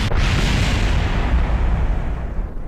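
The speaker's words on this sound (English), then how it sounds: "the explosions are a lot prettier now" A rocket blows up in the Kerbal Space Program video game: one loud, full boom that rolls on as a sustained rumble and fades slightly near the end, with no voice over it.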